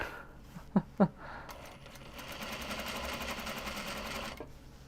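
A sewing machine stitches a Japanese fabric sling bag, starting after a couple of soft knocks and then running in a steady close whir that stops near the end.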